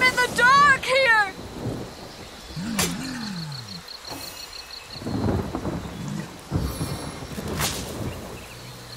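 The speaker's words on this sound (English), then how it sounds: "A taste of the gathering storm." Thunderstorm in the video game Divinity: Original Sin, with two sharp thunder cracks and rolling rumbles over a steady bed of rain and game effects, all fairly loud.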